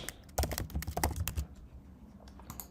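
Close-up, quick clattering keystrokes on a computer keyboard while color names are typed into code, a fast burst of clicks followed by a few sparse taps.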